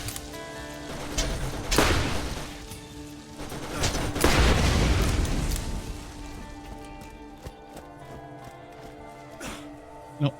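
Pistol gunfire in the video game Borderlands Game of the Year Edition, played as Mordecai, comes as several booming shots with rumbling tails amid dense game sounds, and a voice talks faintly under the action.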